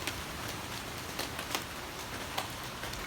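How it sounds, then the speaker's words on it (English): Heavy rain with big drops pours down as a dense, steady hiss, with sharper pelting hits breaking through now and then. "it was just raining even stronger than it is right now"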